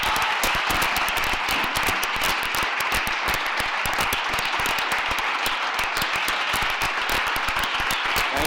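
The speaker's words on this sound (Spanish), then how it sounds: "Por favor, uníos a mí en darle un aplauso" A crowd gives a sustained, loud round of applause for philosopher and activist Peter Singer, with thick, continuous clapping and no voices over it.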